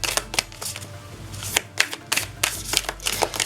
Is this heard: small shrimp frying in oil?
no